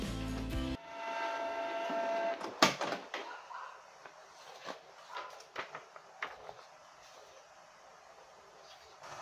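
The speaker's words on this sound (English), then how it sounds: "Then the printer will start printing." A Canon Pixma G-series inkjet printer starts printing after a service-mode reset for an E08 waste-ink error, with a whirring feed motor followed by a run of irregular mechanical clicks and clunks, close and fairly quiet.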